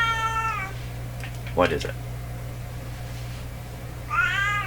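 A domestic cat meows twice, a drawn-out call at the start and another near the end, with a person briefly speaking in between over a steady low electrical hum.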